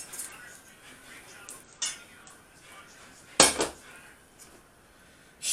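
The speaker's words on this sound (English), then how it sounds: "So now all we have to do is tip it on the top of the veg, like this." Browned beef is tipped from a pan onto vegetables for a beef, potato, carrot and parsnip casserole, heard as clattering metal pan and utensil clinks with one loud scraping crash.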